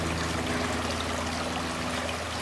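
A river about 25 centimetres deep flows over its bed with a steady, close wash of moving water. The broad rush holds even and unbroken throughout, with no voices.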